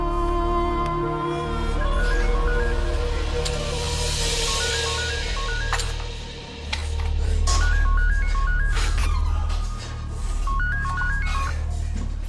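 Repeated electronic telephone dialing tones beep in short stepped bursts over a busy background of music and noise in a film scene.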